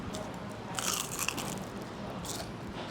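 A crunchy bite into deeply fried Taiwanese chicken, with one sharp crackling crunch followed by quieter chewing, close up and without talk.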